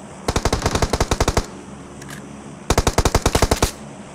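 Rapid automatic gunfire in the PUBG Mobile battle royale game, two loud bursts of about a dozen evenly spaced shots each, separated by a short pause with a faint sound in between.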